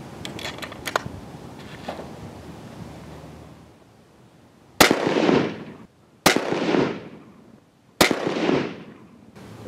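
Three rifle shots fired in a tall target scope tracking test, each a loud sharp crack with a decaying outdoor echo, spaced about a second and a half apart after a quiet stretch.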